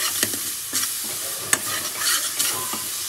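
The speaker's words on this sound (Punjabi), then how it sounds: "ਅਤੇ ਮਸਾਲਾ ਭੁੱਜਦਾ" Masala roasts in a pan with a steady sizzle, broken by several sharp scrapes and clicks as it is stirred, close and with no talking.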